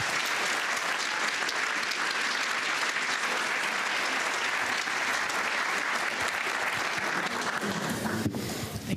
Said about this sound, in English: Can we get one more round of applause for her?